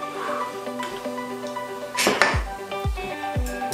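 A spoon stirs an invented drink in a glass, giving a run of light clinks and scrapes, with a sharper clatter midway and a few hollow knocks toward the end, close and moderately loud, no voices.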